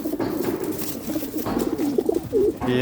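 Racing pigeons, a raced cock and a pedigreed hen, coo close by in soft repeated throaty phrases, with a faint rustle of wings toward the end.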